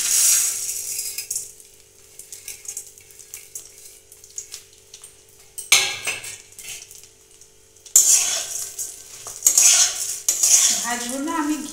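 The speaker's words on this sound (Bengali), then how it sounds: "ভাজবো না, আমি ঘিয়ের সঙ্গে চালটাকে মিশিয়ে নিচ্ছি।" Basmati rice tipped into a pan of ghee with fried ginger and stirred, scraping and clinking of a spoon against metal cookware with a light sizzle, louder bursts of stirring in the second half, no talking.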